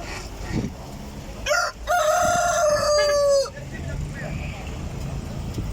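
A rooster crows loudly and close by, a long rising then falling call, with chickens clucking and general market background around it, at an outdoor poultry market in Taşköprü, Kastamonu, Turkey.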